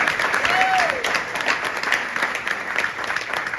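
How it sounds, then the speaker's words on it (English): A crowd claps at a farewell speech gathering, a dense burst of applause lasting a few seconds, with a voice heard over it. "we need to give them a round of applause"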